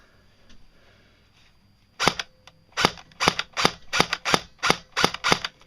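An old Tokyo Marui Version 1 airsoft gearbox fires a single shot, then a quick string of sharp, close mechanical snaps in an uneven rhythm, with no talk.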